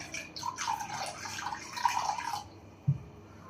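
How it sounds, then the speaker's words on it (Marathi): Water poured over 200 grams of chicken liver in a bowl for rinsing, a soft running splash for about two and a half seconds, then a brief faint plop, close and quiet with no talk. "हे आपण याच्यामध्ये पाणी टाकत आहे"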